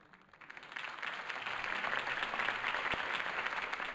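Applause for Harvey Dent's campaign speech swells from a quiet start into a steady, dense wash of many clapping hands from a large crowd, sustained throughout.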